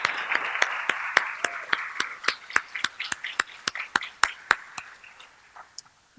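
An audience at a policy forum gives a round of applause, with one nearby person clapping in a sharp, steady rhythm over softer crowd clapping that gradually dies away.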